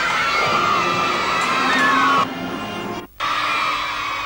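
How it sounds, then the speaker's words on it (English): A large excited crowd with many children shouts and cheers for the Prince and Princess of Wales at a royal visit in New South Wales, loud continuous whoops and yells with a brief cut partway through. "The excited crowd stretched across the barriers to catch a glimpse of the Prince and Princess of Wales."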